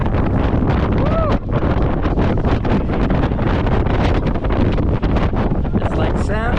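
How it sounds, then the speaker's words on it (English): Strong wind buffets the microphone on an open ferry deck in a Norwegian fjord, a continuous loud roar and rumble filling the whole stretch, with brief voices and a faint whistle-like tone partly buried beneath it. "So it's going to be really windy"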